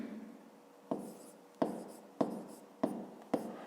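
Pen writing subtraction figures by hand on paper in a fifth-grade maths exercise: five or six sharp, separate strokes at a steady pace, close and fairly quiet, with no talking.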